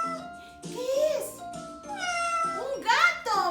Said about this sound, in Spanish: ¡Un gato! ¡Muy bien!